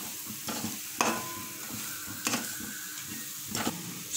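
Gram flour being stirred into a fried mixture in a pan for a paneer dish, a quiet background sizzle broken by a few sharp spoon scrapes and clinks against the metal.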